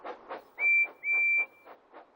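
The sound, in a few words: Percy the tank engine blowing his whistle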